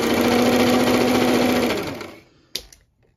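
A Brother XL 2600i sewing machine stitching a one-step buttonhole, running in a loud, steady, rapid whir that winds down and stops, followed by a single sharp click.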